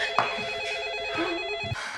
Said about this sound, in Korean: 그때 걸려오는 아내의 전화.